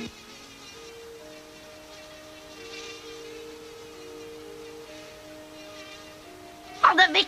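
A fly in a Moomin cartoon gives a thin, steady buzz with a few changes in pitch, heard close over soft background tones, ending in a short burst of livelier noise.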